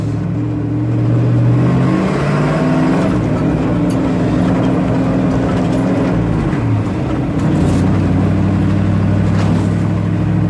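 Engine of a 62-year-old car with a freshly tuned carburetor, pulling steadily in fourth gear; a loud, continuous low drone and rumble that swells slightly as it runs, with no talk over it.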